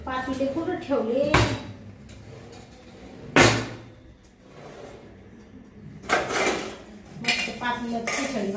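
Cooking pots and dishes clatter in a home kitchen, with several loud metallic clanks and bangs spaced a couple of seconds apart and softer rattling in between, while a person talks.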